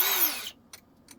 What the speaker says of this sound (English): we're going to put those screws in with the square drive that I have lost